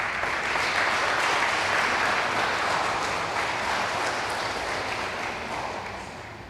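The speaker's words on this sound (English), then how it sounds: "Please join me as a round of applause" Steady applause from an audience at an EPA Brownfields grant check presentation to the City of Brooksville, a dense continuous clapping that holds strong for several seconds and slowly tapers toward the end.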